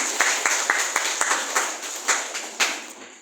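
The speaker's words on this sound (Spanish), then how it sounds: "Vamos a aplaudir grandemente." A church congregation celebrating Pentecost claps together in a lively, steady rhythm of sharp, fairly close hand claps for a few seconds before the sound drops away.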